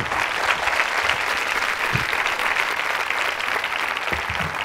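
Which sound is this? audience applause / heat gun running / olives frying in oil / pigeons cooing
audience applause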